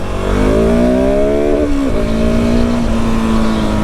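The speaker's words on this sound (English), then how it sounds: "The bike has throttle, and you can go." A 2019 KTM 690 SMC R supermoto single-cylinder engine accelerates hard onto a highway, pitch climbing through a gear, dipping at a shift, then pulling again with loud wind roar and no voices.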